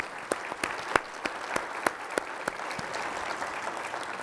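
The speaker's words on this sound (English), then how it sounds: "give a round of applause to our panelists today?" Faint, sparse applause from a small audience thanking panelists at an ecology and economy discussion, with a handful of distinct claps over a low hum of the room.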